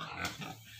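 A pig grunts once up close during a tape-measure weighing on a farm, a short, rough snort with no talk over it.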